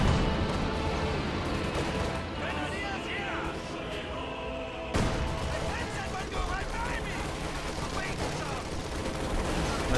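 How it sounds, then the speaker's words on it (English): Light artillery barrage in a World War II tank strategy game, a steady rumble of explosions and gunfire filling the scene, with a sharp burst near the middle; voices talk throughout. "What is that, light artillery barrage, maybe?"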